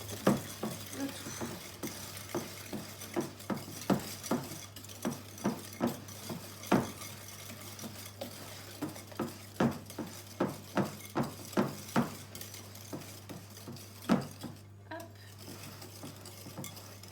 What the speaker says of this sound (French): Alors, c'est parti, on mélange.